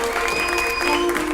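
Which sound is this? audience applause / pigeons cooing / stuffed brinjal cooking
audience applause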